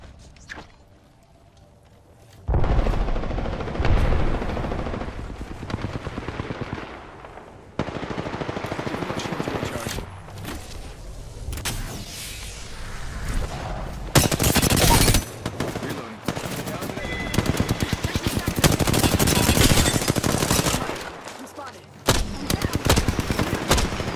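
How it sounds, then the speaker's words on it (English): Loud video game gunfire from a shooter played on PS4 with a mouse, in sustained rapid automatic bursts with short pauses between, close and dominant throughout after a quiet opening. "Shots fired, and they're hitting me."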